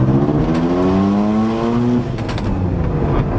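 Mazda RX7 FD rotary-engine car accelerating in second gear with a hesitating, on-and-off pull, its engine note rising steadily then dropping and wavering, loud and close.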